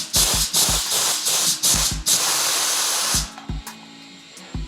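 Gas hisses into a beer keg as it is purged through the pressure relief valve, loud repeated bursts of spraying hiss in quick pulses, then a longer continuous rush that stops abruptly, followed by faint clicks.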